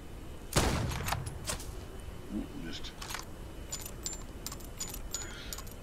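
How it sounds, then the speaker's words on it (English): Gunshots from a small firearm striking a homemade target on a homestead, one sharp loud report near the start followed by fainter clicks and knocks, with outdoor ambience and no talk. "Gives you a little poof every time you shoot it."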